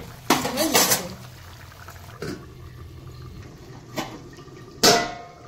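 A lid clanks and clatters onto a metal pot of simmering fish curry in a home kitchen, with a few sharp separate knocks spread over several seconds and a faint bubbling underneath.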